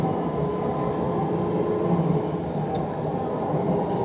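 A metro train rumbles along steadily from inside the carriage, a continuous loud drone of wheels and motor with no talk.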